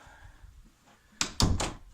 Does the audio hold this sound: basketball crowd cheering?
no